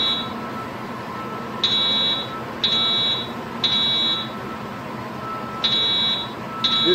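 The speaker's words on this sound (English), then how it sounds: "Most of the alarms are Edwards 757 speaker strobes" An Edwards 757 fire alarm speaker strobe sounds repeated high electronic tones in regular bursts about once a second, heard at a distance across a bus platform in a large echoing transit terminal.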